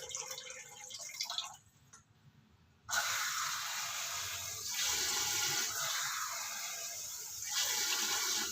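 Water runs from a kitchen tap into a pot for cooking rice, a bright rushing stream that stops briefly and then starts again and flows steadily, with no talking.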